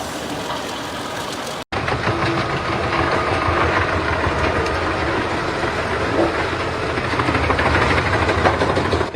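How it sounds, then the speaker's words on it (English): An Eschlböck Biber 110 wood chipper working in a forest as large tree trunks are fed in, a loud, dense mechanical roar that runs without pause after a brief cut near the start and swells slightly toward the end. "Eschlböck Biber 110, a powerful wood chipper in action, grabbing and feeding large tree trunks into its body."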